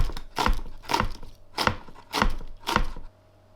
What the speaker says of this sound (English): Got some spring onions here, which I'll just cut into little sections.